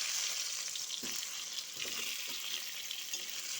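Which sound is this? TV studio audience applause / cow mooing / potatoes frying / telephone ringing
potatoes frying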